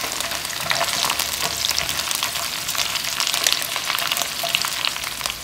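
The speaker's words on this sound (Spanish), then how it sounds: "vamos a agregar todos nuestros chiles para que se comiencen a freír" Chiles frying in a pan for tacos, a dense, loud crackling sizzle with continuous spitting and popping, steady throughout and heard close up with no talking.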